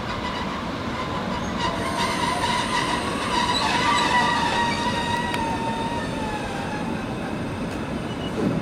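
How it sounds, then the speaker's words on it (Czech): EuroCity international train departing Prague, a steady rumble of rolling stock with rising wheel squeal and rail noise building as it pulls away, continuous and fairly loud with no talk. "Vlak je připraven k odjezdu."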